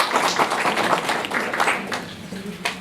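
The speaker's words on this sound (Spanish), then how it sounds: "Para quien pedimos un fuerte aplauso" Audience applause at an indigenous health education forum, a dense wash of many hands clapping at once, steady and moderately loud, fading slightly toward the end with a faint voice underneath.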